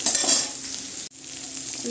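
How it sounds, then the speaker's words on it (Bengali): Fish frying in hot oil with turmeric and salt sizzles steadily and close, with a brief dip near the middle before the sizzle resumes; no talking. "মাছটা ভাজা হচ্ছে"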